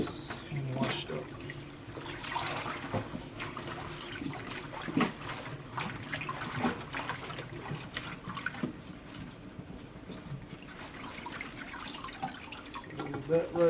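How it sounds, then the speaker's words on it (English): Tap water runs steadily into a sink while callaloo leaves are rinsed for a second wash, a soft continuous splashing with scattered drips and handling noises beneath a person talking. "when I wash them over here the second time, I'm actually going to have the water running."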